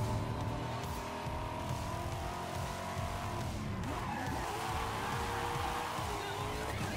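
Car drifting in Forza Horizon 5, engine droning under a rough, sliding tire skid that rises midway, fairly faint and continuous.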